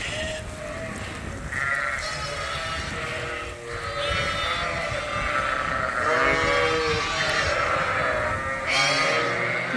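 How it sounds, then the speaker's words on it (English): A flock of ewes and lambs bleats almost continuously while being moved on a sheep farm, many overlapping calls near and far forming a loud, unbroken chorus. "I don't know why the sheep are being terrible to move today"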